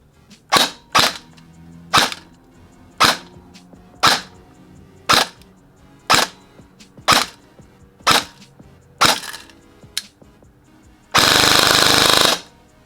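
An ECHO1 BTS MOD-2 airsoft electric rifle shooting 0.20 gram BBs on an 11.1 LiPo battery fires sharp single shots spaced about a second apart, then a short full-auto burst of about a second and a half, loud and close.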